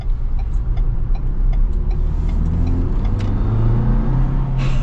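A 2022 Ford Bronco with a manual transmission and turbo engine pulls hard in second gear, its low droning engine note steady and rising slightly, heard from inside the cabin with no talking.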